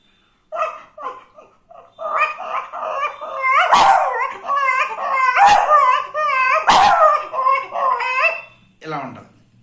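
A person's voice imitates a dog, producing a series of howls, yips and whimpering bow-wow sounds with rising and falling pitch, loud and close, ending in a short whine.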